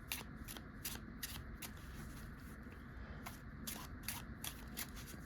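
Quiet, repeated riffling bursts of a card deck being shuffled, about a dozen quick flutters in a steady rhythm over low background hum.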